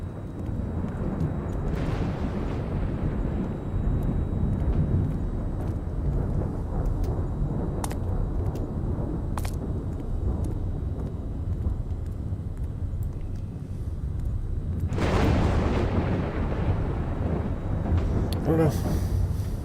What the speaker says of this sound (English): This is cool thunderstorm.